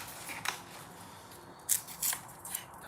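Several quick snips of scissors cutting craft paper cut through a quiet room, sharp and close, spaced irregularly over a few seconds.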